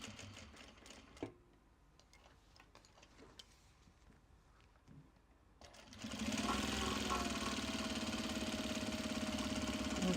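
A sewing machine basting stitches on a case starts after quiet handling noises, then runs loud and close with a rapid, steady mechanical chatter that holds to the end.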